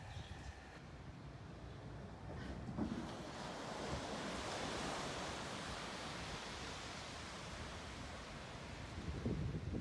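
Gentle waves wash onto a quiet little beach in Rockport or Gloucester, Massachusetts, a soft continuous surf rumble that swells slightly midway and stays faint and steady, heard from some distance with no voices.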